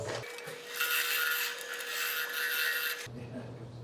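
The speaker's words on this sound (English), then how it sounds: "I'm gonna do a little bit of scraping with the bowl gouge" A bowl gouge scrapes a spinning wooden form on a lathe, a close, sustained raspy scraping lasting about three seconds over a faint steady motor hum, then stopping.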